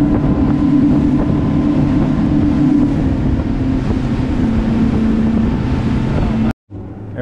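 A motorboat roars along at speed on bay water, its engine drone steady and loud under rushing wind and water, cutting out abruptly near the end.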